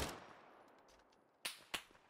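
Enemy gunfire in Deadside, faint and distant at first, then two sharp, separate shots cracking out near the end, spaced about a quarter second apart.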